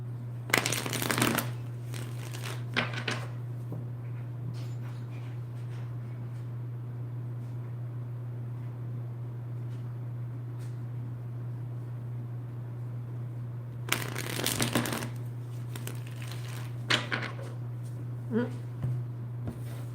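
Tarot cards shuffled close up in a few brisk riffling bursts, separated by long pauses, over a constant low electrical hum.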